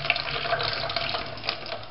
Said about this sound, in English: I'm about to wring my shirt out after plyometric cardio circuit.